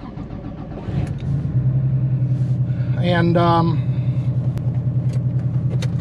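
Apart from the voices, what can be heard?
1989 Porsche Carrera 3.2 air-cooled engine starting and idling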